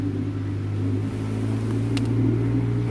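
ATVs riding out to camp through deer hunting country, heard as a steady engine drone and rumble at moderate distance, holding constant with a slight rise toward the end and no talk.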